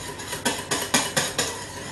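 A utensil scrapes around a bowl as a homemade body lotion is stirred, five evenly spaced strokes sounding close and clear against a quiet background.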